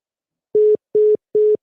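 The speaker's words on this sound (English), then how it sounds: "The line is buzzing." A phone line gives three short, evenly spaced electronic tone beeps, clear and close, heard alone after a caller drops off.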